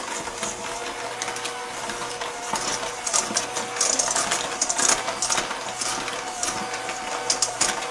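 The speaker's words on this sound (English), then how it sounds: "And now let's put on our electric mixer. We're going to beat this for 2 minutes until it's light and fluffy." Electric mixer beating strawberry chocolate chip muffin batter, a steady whirring drone with clattering and ticking of the beaters against the bowl, continuous and fairly loud.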